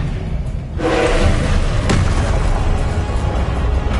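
A Confringo spell blast from Hogwarts Legacy: one loud, booming explosion hits after a short quiet lead-in, then a thick rumbling roar carries on to the end.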